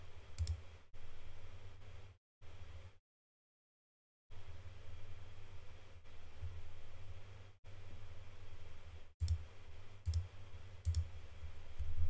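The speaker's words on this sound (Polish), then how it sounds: "Dobra, klikamy." Computer mouse clicks during a Forge of Empires browser game session, a handful of sharp, quick, close clicks scattered irregularly over a faint steady hiss, no one talking.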